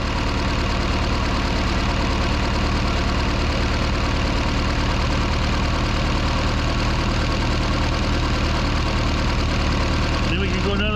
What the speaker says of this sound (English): Hear the engine change.